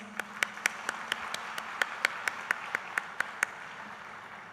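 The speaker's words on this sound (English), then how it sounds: "Please give a round of applause" Sparse applause at a university convocation in Dubai, a small number of distinct, evenly spaced claps standing out over a faint hall murmur, fairly quiet and steady.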